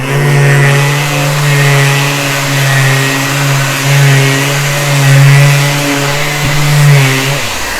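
A Surfprep sander with 80-grit paper smoothing bandsaw marks off a wooden leg, giving a steady loud motor whine with a low hum that runs without a break and cuts off near the end.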